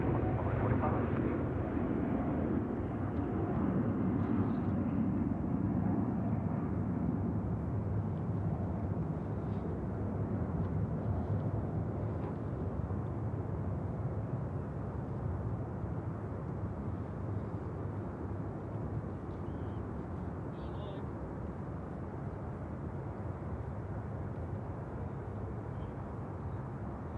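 A Qantas airliner lands on runway 34 left at Sydney Airport, heard as a steady, broad, distant roar that holds for the whole stretch and slowly eases in loudness.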